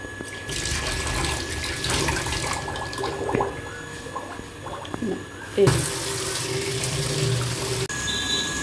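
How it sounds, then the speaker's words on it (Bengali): Water from a pump pours into a tank in a steady, rushing splash that shifts in tone partway through, with faint background noise and occasional clunks. "জাস্ট 10 মিনিটের মধ্যে এটা জল পড়তে শুরু করেছে।"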